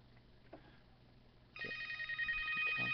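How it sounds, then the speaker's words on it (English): A telephone rings during a modded Minecraft gaming session, first as faint tones under background noise, then a louder, sustained electronic ring with bright repeating tones for the last second and a half. "I got a phone call."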